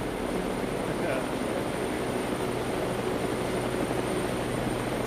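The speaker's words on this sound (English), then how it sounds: "we're just taking helicopters one after another" Helicopters in a video game, a steady rotor and engine drone holding throughout at moderate loudness, with a faint voice underneath.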